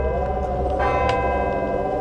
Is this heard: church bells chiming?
yes